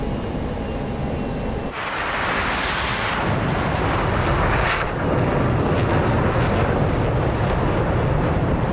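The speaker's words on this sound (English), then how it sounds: "Massive wake turbulence." Heavy roaring wake turbulence from a B-2 Spirit bomber in the flight sim DCS, a steady loud windy rush that surges and swells for the whole stretch, with no voices.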